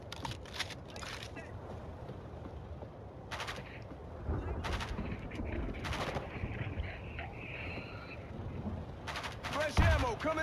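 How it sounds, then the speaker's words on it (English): Rapid bursts of gunfire in the zombie shooter World War Z, with repeated sharp volleys scattered through a busy, noisy battle mix, loud and near, with voices talking over the action. "You guys gotta stop shooting."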